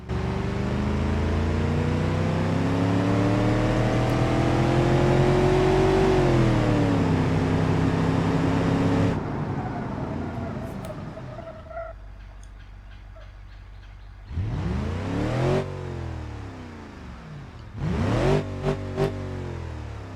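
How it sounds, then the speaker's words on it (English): Car engine in BeamNG.drive running with the mufflers removed, giving a rougher tone: loud steady revving with rising and falling pitch, then a quieter idle, followed by a few sharp revs near the end, with no talk. "So if I take out the exhaust, the mufflers right here, just like that, now I can hear the engine sounds a little bit rougher sounding"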